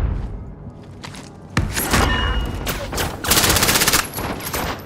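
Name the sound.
gunfire in video game Call of Duty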